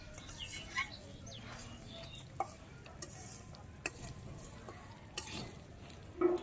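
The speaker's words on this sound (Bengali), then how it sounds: "পোলাও চালের খিচুড়ি মুসুরির ডাল দিয়ে নেড়ে সেরে ভালো করে ভাজি করে নিয়ে লাগবে" Pulao rice and masoor lentils being stir-fried for khichuri, a steady soft scraping and sizzle with occasional sharp clinks of the spatula against the pan, and faint background chatter.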